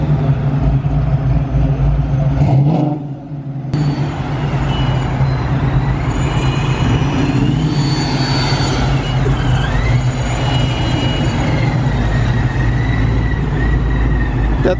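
A loud supercharged Mustang widebody with a ProCharger at a car meet, its engine roaring steadily and close throughout, with a brief dip before the noise surges back.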